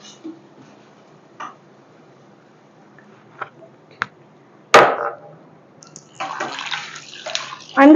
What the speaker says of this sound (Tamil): கொஞ்சம் தண்ணி ஊத்திக்கலாம். கொஞ்சமா வாட்டர் ஆட் பண்ணிக்கலாம்.